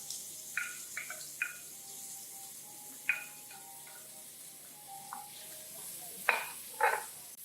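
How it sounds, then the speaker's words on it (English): Onions, shallots, garlic and celery sizzle in a hot oiled pan, a soft steady crackle broken by sharp clinks and scrapes of a utensil stirring against the pan. "my pan is pretty hot already. So then you're gonna add your onions and shallots and garlic."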